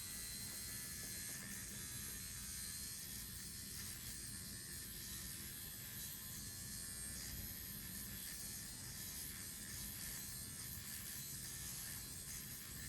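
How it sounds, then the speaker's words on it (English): Steady electric shaver buzz gliding over skin to remove fine vellus facial hair during electric dermaplaning, running continuously and close with a constant hum throughout. "we have our electric shaver"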